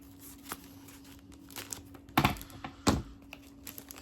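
Scissors snip and crinkle through the paper packaging of a BPI Gold Rewards credit card, a few sharp close cuts amid soft rustling and tapping, with no talking.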